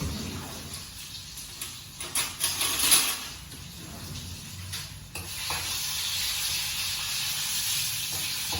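Garlic paste sizzles and hisses steadily in a warm pan while being stirred and mixed, with scraping stir noises bunching up around the middle and a constant fry continuing to the end, close and moderately loud.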